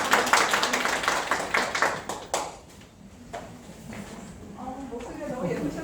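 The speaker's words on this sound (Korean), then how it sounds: "좀 큰 박수 부탁드립니다." Applause from a small audience for an artist at a members' day event, a short burst of close hand clapping that dies away after two seconds, followed by people talking.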